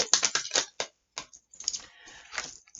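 Tarot cards are shuffled in quick bursts of crisp, clicking flutters, with short pauses between riffles, close by and fairly loud, no voices.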